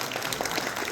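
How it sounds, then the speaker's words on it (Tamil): Applause from an audience at a Tamil school Pongal celebration, a dense steady patter of many hands clapping throughout the brief moment, fairly even in loudness with no voices over it. "ஒரு பெரிய கைத்தட்டல் கொடுத்துருங்க"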